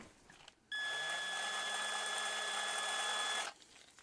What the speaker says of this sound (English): I'm going to just hit that with my drill quick